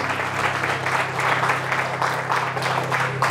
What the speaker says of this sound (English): I think the Lord deserves a great hand clap of praise this morning